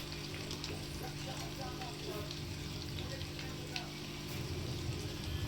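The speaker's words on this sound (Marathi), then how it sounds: "बटाटे जरासे शिजून द्यायचे" Potatoes cook in a pan for a traditional Marathi batata bhaji, giving a steady, even sizzle that runs unbroken for the whole stretch.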